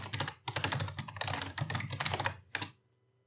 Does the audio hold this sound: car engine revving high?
no